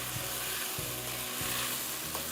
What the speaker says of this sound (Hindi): इसको मैं अच्छी तरह फ्राई करूँगी जब तक कि ये देखें चिकन पिंक से वाइट ना हो जाए